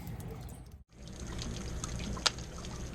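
Water drains freely from an RV water heater with the anode removed, a steady close trickle and pour with a brief gap near the start and one small sharp splash later, with no voices.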